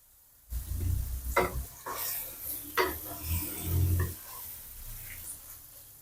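Pork sizzles and spatters in a hot pan while cooking for Japanese curry, with scraping and stirring clatter from a utensil, loud at first and then settling.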